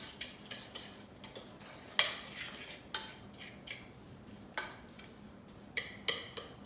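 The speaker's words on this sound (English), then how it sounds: "Okay, so I'm really mixing, trying to get that red and that blue to mix." A spoon scrapes and clinks around a bowl while sugar scrub is stirred, giving a series of soft irregular taps and scrapes, close and fairly quiet, with no voices.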